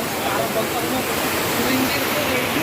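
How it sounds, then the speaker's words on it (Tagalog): Floodwater rushes across a farm after heavy rain, a loud, continuous broadband roar like a torrent that stays steady throughout, close and overpowering, with a voice faintly audible beneath the water. "Ang bilis ng pagragasa ng tubig."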